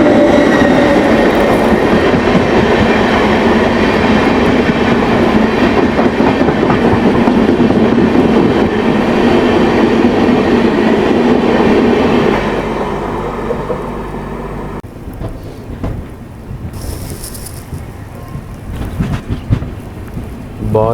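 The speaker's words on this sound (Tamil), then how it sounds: "இது பெங்களூர்லேருந்து எர்ணாகுளம் போகிற இன்டர்சிட்டி எக்ஸ்பிரஸாக இருக்கணும்" An Intercity Express from Bengaluru to Ernakulam, hauled by a South Central Railway locomotive from the Lallaguda shed, rushes past close by with a loud, steady rumble and clatter for about twelve seconds, then fades into quieter carriage noise.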